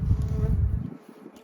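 Honeybees buzz inside a winter hive that holds sugar feed and moisture. The dense low hum is loud at first and then thins and fades to a quieter drone, with no talking.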